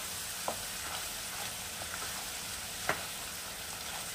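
Chicken with onion paste frying in a pan on medium-low heat, giving a continuous sizzle with a few sharp utensil taps and scrapes as it is stirred, close by and without speech.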